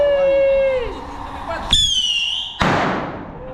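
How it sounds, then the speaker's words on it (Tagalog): Two sharp firecracker blasts burst out near a New Year celebration under a bridge, each a loud crack with a bright, hissing tail, after a whistling rocket-like tone fades out. "Puro pa din yung paputok eh."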